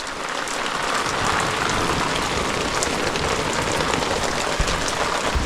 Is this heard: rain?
yes